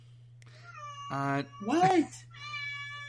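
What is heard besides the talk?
cat meowing loudly behind a closed door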